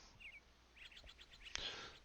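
Small birds chirp and trill at an airfield in Hoquiam on a clear, windless day, a quick run of short repeated tweets, fairly faint and at a distance, with one louder sharp call near the end.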